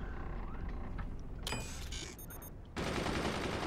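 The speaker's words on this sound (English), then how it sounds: "Yeah, machine gun fire incoming." Machine gun fire in the video game Forts, a dense rattle of rapid shots, with a short mechanical whir in the middle and then a sustained loud burst, no talking.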